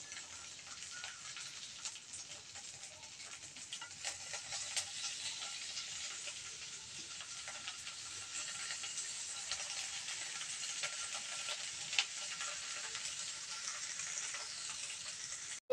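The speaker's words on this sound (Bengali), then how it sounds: "তেলটা গরম হয়ে এসেছে, এবার আমি একে একে সবগুলো দিয়ে দেব।" Turmeric-leaf-wrapped fish fritters fry in hot oil with a steady, close hiss and crackle that holds throughout.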